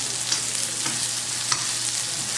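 Polenta shapes fry in butter in a pan, giving a loud, steady sizzle with faint crackles and light stirring scrapes, alone and close up.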